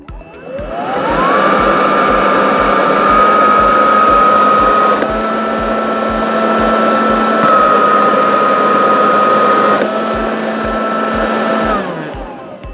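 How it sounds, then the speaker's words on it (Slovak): A Parkside PLSBA 40-Li A1 cordless leaf vacuum blower with a four-pole motor runs in turbo mode on 4 Ah batteries, spinning up to a loud, steady whine, shifting pitch slightly midway, then winding down at the end. "Ďalej sa pozrieme na hlučnosť pri vysávaní a fúkaní na režime turbo 6"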